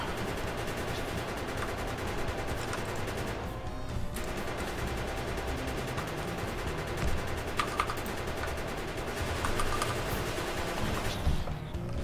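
Turrets in Factorio fire continuous bursts of bullets at attacking biters, a dense, steady rattle of rapid automatic gunfire running throughout with brief lulls.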